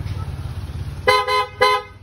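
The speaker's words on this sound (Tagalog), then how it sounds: "Tapos loud horn" Loud aftermarket horn on a Yamaha Mio i 125 scooter, sounding two close blasts after a low idle rumble, the second following a brief pause.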